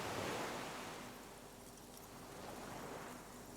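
Soft, steady wash of sea waves in the game Disco Elysium, a faint distant surf swelling and easing gently with a breezy hiss and no voices.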